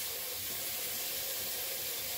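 Tap water runs steadily into a pot of potatoes in a home kitchen, a constant close hissing rush with no talking.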